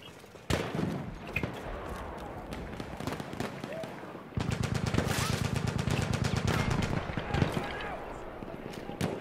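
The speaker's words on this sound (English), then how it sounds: "I love using the carbine version of the sniper rifle" Rapid gunfire from a carbine sniper rifle in the video game Battlefield 1 cracks out as sharp shots, first scattered and then as a dense, rhythmic burst through the second half, with someone talking over it.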